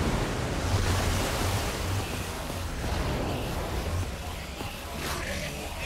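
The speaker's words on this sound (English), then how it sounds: "I don't know how much water this thing is going to kick out" Rushing water pours out in Minecraft Story Mode, a loud, steady broadband roar like heavy surf with slight swells in intensity and no voices over it.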